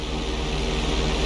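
A fixed-wing plane in GTA V's flight school holds a knife-edge roll, its engine a steady, loud droning roar that continues unbroken with no voices.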